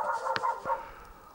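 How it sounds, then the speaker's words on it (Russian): A dog barks indoors, two or three short sharp woofs in quick succession, fairly close and moderately loud. "Собака наша залаяла на кого-то."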